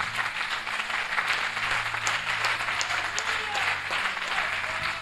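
A church congregation applauds a deacon's preaching, a dense and steady wash of clapping that holds for the whole stretch.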